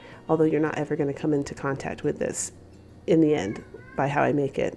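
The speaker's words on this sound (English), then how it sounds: "Sorry if you can hear my cat in the background." A cat meows in the background, faint and intermittent beneath someone talking close to the microphone while crafting fall home decorations.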